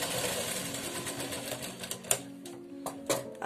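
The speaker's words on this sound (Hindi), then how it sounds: "एक सिलाई से आप इसे अटैच कर दीजिए।" A sewing machine stitches a frill onto an umbrella bell blouse sleeve, giving a close, steady mechanical ticking with a few sharper clacks near the end and no talking.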